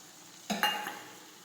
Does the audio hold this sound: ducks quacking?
no